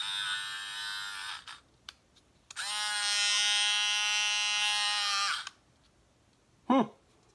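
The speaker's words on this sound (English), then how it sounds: "So this is the Dremel. It's the 7300." A battery-powered Dremel 7300 rotary tool runs with a steady high-pitched whine for about three seconds before winding down, after a short earlier burst, close and loud with no speech.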